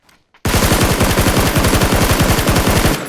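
Sustained automatic fire from a Scar rifle in a video game, a rapid burst of evenly spaced loud shots running about two and a half seconds after a brief quiet start, close and dominant with no talk over it.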